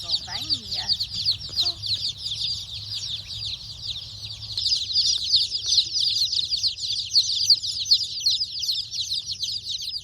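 A large flock of Novagen laying hens on pasture fills the air with continuous overlapping clucks and squawks, with a few guineas among them and brief human sounds early on.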